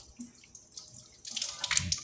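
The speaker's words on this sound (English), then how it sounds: "you're gonna have to wash your hands" Hands are washed under room-temperature water from a kitchen tap after handling raw shrimp. Quiet handling sounds come first, then the water runs steadily and splashes louder, close by, with no talking.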